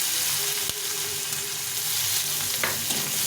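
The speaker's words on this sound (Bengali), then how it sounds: "পেঁয়াজ কুচি করে নিয়েছি, পেঁয়াজটাকে ভেজে নেব।" Chopped onion frying in hot oil with dried red chili and whole cumin, a steady loud sizzle with a few stirring knocks.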